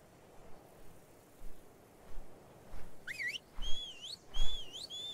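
A sliding, warbling whistle from the passive command in the video game ARK: Survival Evolved sounds several times in quick succession over low rumbling game ambience.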